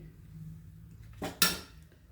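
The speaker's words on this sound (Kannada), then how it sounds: "ಸ್ಟೋವ್ ಮೇಲೆ ಇದನ್ನು ಬಾಂಡ್ಲಿ ಇಡ್ತೀನಿ" A frying pan set onto a stove burner for dry-roasting garlic and coriander leaves, giving two close metallic clanks in quick succession over a quiet kitchen hum, with no one speaking.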